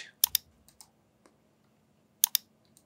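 Sharp computer mouse clicks at a desk, arriving in two quick double-click pairs about two seconds apart, close and crisp against near silence, with a few faint ticks between them.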